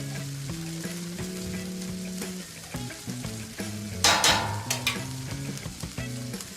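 Spiced masala being stirred and fried on a hot street-food griddle for a cheese pizza dosa, a steady sizzle with scraping and clinks from a spatula, while music plays throughout.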